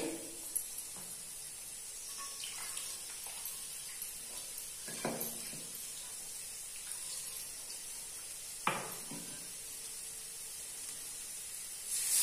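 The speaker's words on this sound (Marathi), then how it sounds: "त्याच्यामध्ये पाणी टाकते मी." Water pours into a hot pan of prawn masala with a hissing sizzle, punctuated by a few sharp clinks of utensils.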